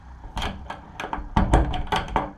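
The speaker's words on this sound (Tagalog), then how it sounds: "Ilak natin yung pinto." A house door is shut and locked: a series of close, sharp knocks, clunks and metallic rattles of the latch and lock in an irregular rhythm.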